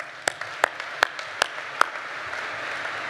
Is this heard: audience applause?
yes